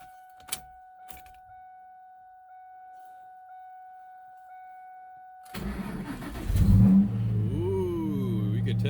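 A Mach 1 car on a low battery cranks briefly and then fires up, the engine catching and settling into a loud, rumbling idle with a rise in revs, after a quiet stretch with a steady tone and a couple of clicks.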